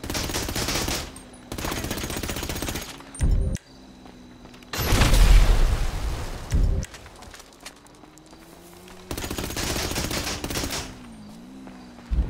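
Gunfire in the video game GTA 5 strikes a house in several loud automatic bursts separated by quieter stretches, with a heavier blast partway through.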